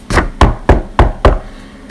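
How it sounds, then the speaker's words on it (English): Five sharp knocks on a wooden door in quick, even succession, close and loud with no voices, each rap ringing briefly before the next. "The wolf knocked at the door."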